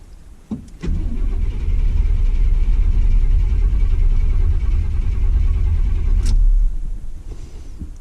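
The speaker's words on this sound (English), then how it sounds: "I'm going to crank this, and we're going to watch RPM" A 1992 Chevy K1500 pickup with a no-fire problem cranks steadily for about six seconds, a loud, continuous low starter-and-engine churn that stops without catching.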